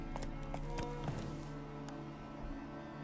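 Hooves of Roach, Geralt's horse in The Witcher 3, a few clip-clop steps at the start that slow and fade over a steady low game ambience and music.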